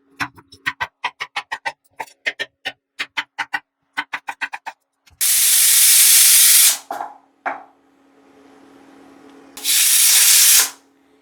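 A run of rapid mechanical clicks, then a loud pressure cooker whistle, cooking beans, blasts for about two seconds, stops, and sounds a second time later.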